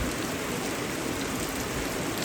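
Steady rain falling on an African village homestead in the evening, a dense, even hiss of drops on surfaces with no breaks and no voices.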